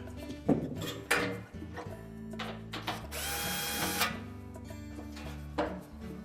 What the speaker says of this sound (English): There are 2 1/4-inch hex head screws that secure that to the bulkhead. Simply remove those.